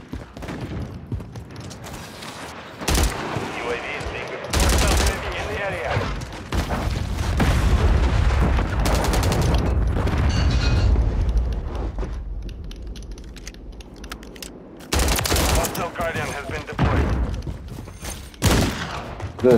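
Gunfire in a shooting video game, with repeated loud bursts and booming shots breaking out in clusters over a low rumble, while players talk throughout.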